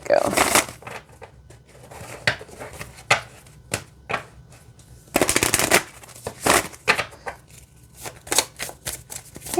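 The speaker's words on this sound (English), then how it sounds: "let's see how it shuffles" Bursts of riffling shuffles of a deck of rune cards, a few quick flurries separated by pauses, close by with a person talking in between.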